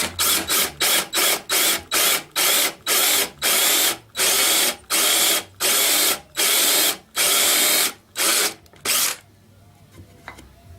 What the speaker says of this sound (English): Alright, I'm going to drill it.